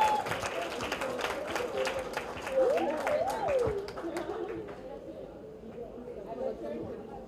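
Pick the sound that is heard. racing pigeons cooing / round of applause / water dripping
round of applause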